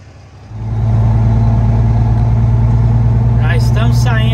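A loaded family truck pulls away on a road, its engine swelling after half a second into a loud, steady low drone that holds throughout, with a brief voice speaking near the end.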